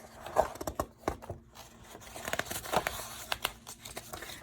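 Pages of a paperback reading comprehension workbook are flipped and handled close up, with a run of papery crinkles, rustles and light slaps and no voice.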